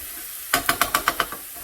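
Garlic and spices stirred in hot oil for chilli garlic chicken curry, a run of about seven quick scraping strokes over a soft sizzle, close and fairly loud with no voices.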